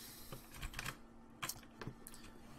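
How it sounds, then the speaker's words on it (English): Scattered irregular key presses on a computer keyboard as a cat walks across it, several bursts of clacking taps over a steady low hum, no talk. "My cat just pushed all the buttons on my keyboard."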